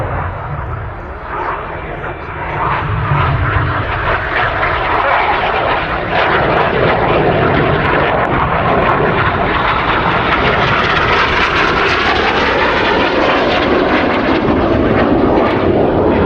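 Red Arrows display jets fly the Carousel manoeuvre at an air show, their engines making a loud, sustained roar that builds and holds across the whole stretch, with a commentator's voice over it.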